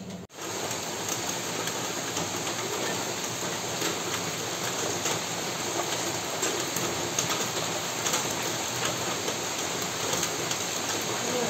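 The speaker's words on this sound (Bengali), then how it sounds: "বাইরে এরকম বৃষ্টি দেখুন" Rain falls steadily outside on a rainy day, a dense continuous patter on surfaces, even and fairly loud throughout, with no talking.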